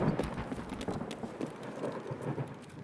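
Two players running in Escape from Tarkov, their quick footfalls patter in an irregular rhythm at moderate distance, fairly soft under a steady wash of background noise.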